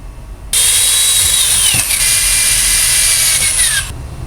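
A power drill whines at high speed, loud and steady for about three seconds, boring holes in a vise base bound for mounting on a Porta Bote bow, then cuts off.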